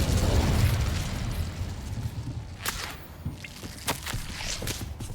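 Hogwarts Legacy's Incendio fire spell erupts with a loud, roaring burst of flame that fades into crackling pops and scattered sharp impacts over a few seconds, with no voices.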